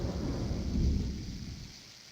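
Heavy rain and rolling thunder as a stage-play sound effect, a steady loud downpour wash with a deep thunder rumble swelling near the middle and easing off, no voices.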